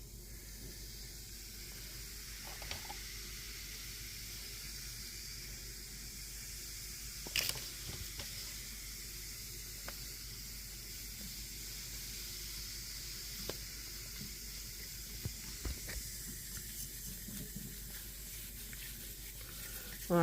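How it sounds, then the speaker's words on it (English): Baking soda on a vintage brass candle holder gives a soft, continuous fizzing hiss that crackles quietly up close, with occasional small clicks and taps. "I'm going to do a little bit of baking soda all over that."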